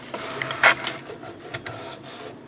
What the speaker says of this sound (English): It's really making a scraping sound now.